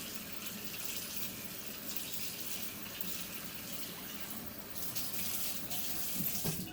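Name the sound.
rinsing a Norwex cloth under a running tap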